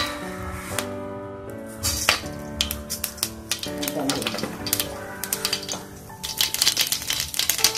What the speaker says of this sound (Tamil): கடுகு பொட்டிடுச்சு.